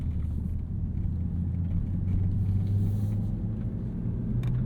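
BMW cars roll in convoy behind an X5 at the BMW Performance Center, a steady low engine rumble and road noise heard from inside the car, close and continuous with no talk.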